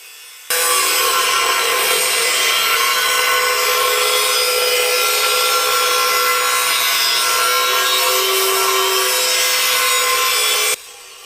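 A power tool scoring a groove into quarter-inch steel plate, a loud continuous grinding whine held steadily for about ten seconds, then stopping abruptly.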